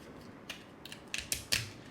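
Plastic ant bait traps are torn apart by hand, a few short crisp snaps and cracks growing louder toward the end, close and alone without speech.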